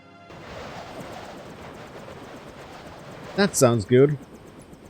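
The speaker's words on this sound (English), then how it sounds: "That sounds like Jock's helicopter." Jock's helicopter in the video game Deus Ex gives off a steady, rumbling rotor drone with a faint rhythmic chop, and someone speaks briefly near the end.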